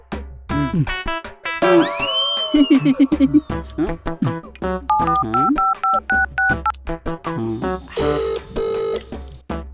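Telephone dialing tones from a phone call in a Telugu web series comedy scene, a rapid run of steady beeping DTMF tones followed by rising and falling melodic beeps, loud and close with no talk over them.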